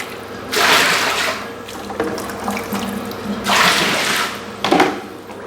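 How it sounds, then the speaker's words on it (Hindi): Hot water pouring into a tub for a sitz bath, two loud gushing bursts near the start and middle with quieter running water between, close by and without talk. "और तेज़ गर्म पानी इसमें डाल दें।"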